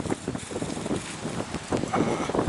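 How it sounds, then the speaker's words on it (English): Cold north wind blowing hard outdoors on a clear, freezing night, roaring steadily as broadband rumble and hiss against the microphone in continuous gusts. "Boy, that wind's cold."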